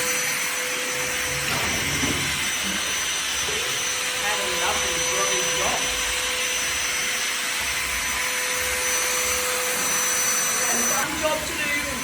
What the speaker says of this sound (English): you start vacuuming